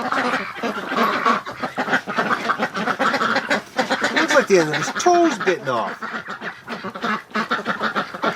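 A female Muscovy duck gives short, honking quack-like calls near the middle of the clip, with someone talking steadily over and around them.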